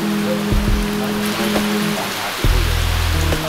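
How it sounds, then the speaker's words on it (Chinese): Heavy rain pours steadily on a road near Lingyin Temple in Hangzhou, a dense, loud hiss that never lets up, with a low vehicle hum and a few passing tonal sounds underneath. No voices. "在路上就来了一场不期而遇的大雨。"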